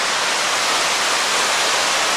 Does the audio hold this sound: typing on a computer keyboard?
no